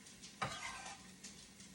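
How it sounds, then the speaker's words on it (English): Chopped garlic dropped into a pot of onion sautéing in olive oil, with a quick stir-and-hiss onset then a steady low sizzle, close and quiet. "I've got 1 onion sauteing in some olive oil, and I'm going to put in 4 cloves of chopped garlic"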